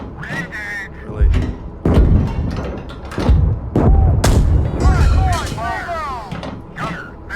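Tank main gun blasts in a PC tank gunnery simulator during a right-flanking engagement, several heavy booming shots spread through the clip amid rumbling engine noise, with voices talking over the action.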